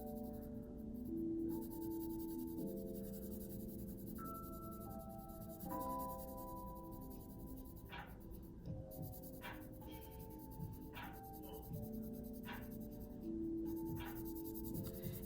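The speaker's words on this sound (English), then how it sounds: "grab your orange color pencil and your blue color pencil and start filling the circle in neatly" Colored pencil coloring in a circle on a paper worksheet: soft, quiet scratching strokes repeated over a faint background of sustained musical tones.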